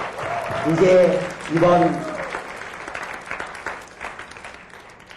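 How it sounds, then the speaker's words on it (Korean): At a university gathering, the crowd claps in thanks to parents, a steady wash of applause under a voice that speaks loudly over the start before the clapping carries on alone. "이 시간 감사한 마음으로 크게 한번 박수 치도록 하십시다"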